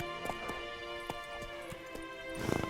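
Horse hooves clip-clop at a steady trot in The Witcher video game, regular light thuds spaced about every quarter second over a soft ambient hum, growing busier near the end.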